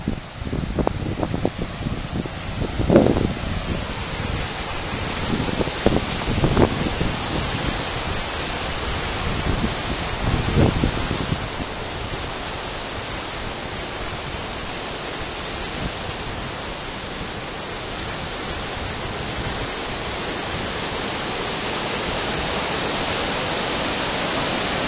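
Water from the Upper Rogue River rushes out of the rocks in a steady, broad roar, with some rustling and bumping handling noise in the first half before the flow continues alone.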